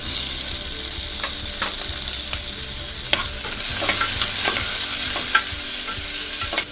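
Onion, curry leaves, tomato, garam masala, turmeric and coriander sizzle steadily in a hot pan for a green field bean curry, with a spoon stirring and scraping at intervals and no voices.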